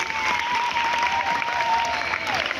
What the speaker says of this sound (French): alors, applaudissements pour toutes les mamans qui sont là